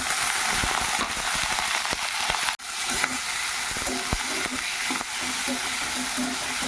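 Meat dropped into a pan of hot oil with fried onion, garlic and ginger, sizzling loudly and steadily with scraping stir strokes, a brief dip midway, no talking.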